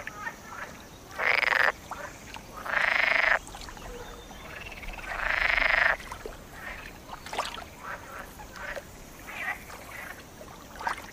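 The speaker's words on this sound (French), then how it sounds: "Ces inlassables choristes sont des grenouilles vertes," Male green frogs calling for mates at a pond, a chorus of loud, rasping croaks in three distinct bursts with quieter calls scattered between, close by over a soft background.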